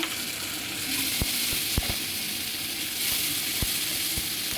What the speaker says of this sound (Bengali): নেড়ে কষিয়ে নিচ্ছি